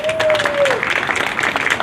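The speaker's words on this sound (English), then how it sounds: "give our honorees a round of applause" An outdoor crowd at an LGBTQIA+ flag raising ceremony in East Orange claps for honorees, a burst of applause beginning as a speaker's voice fades out.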